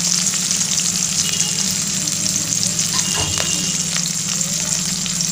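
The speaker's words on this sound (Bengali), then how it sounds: "পেঁয়াজটা একটু ভেজে নেব," Onions and green chillies fry in a pan, a continuous close, crackling sizzle with a brief stirring clatter partway through and no speech.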